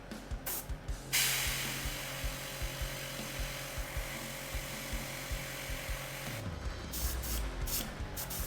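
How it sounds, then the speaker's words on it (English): Airbrush spraying purple paint onto a miniature, a steady hiss of compressed air running for about five seconds between short bursts of clicks and taps, close and fairly loud. "You'll notice I keep spraying off to the side."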